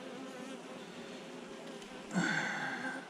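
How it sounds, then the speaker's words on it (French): A horsefly buzzes as it flies around near the listener, a low droning hum that swells louder and closer toward the end, with no talk. "Ah non, c'est un taon, regarde, tu vois, c'est ça un taon."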